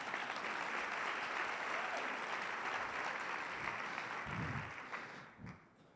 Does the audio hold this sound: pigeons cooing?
no